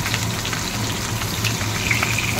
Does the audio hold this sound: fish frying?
yes